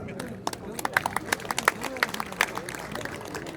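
Audience applause at the opening ceremony of a jokgu (foot volleyball) tournament, a sparse scatter of claps from a crowd mixed with murmuring voices.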